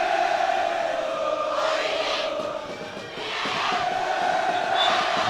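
Schoolboy supporters of Bishops cheer and chant in full voice for their team at an under-19 boys' water polo final, a loud, dense, continuous roar that dips briefly midway before surging again.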